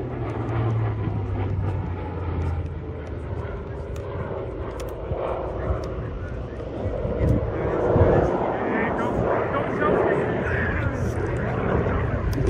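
A Hawker Fury warbird flies aileron rolls in a display at the Sywell Airshow, its engine droning steadily at a distance under continuous commentary.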